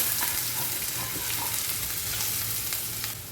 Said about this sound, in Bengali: রসুনটাকে একটু নেড়ে নিলাম